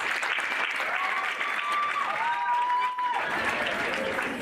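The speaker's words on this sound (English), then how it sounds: "Applause for that performance." An audience applauds after a performance at a school speech and prize-giving day, a steady, full clapping from a large crowd, with a voice speaking over it.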